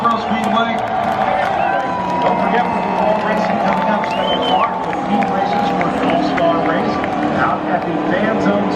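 Spectators at North Wilkesboro Speedway cheer and applaud during a NASCAR truck race, a continuous crowd roar with clapping and whistles under a loud public-address voice.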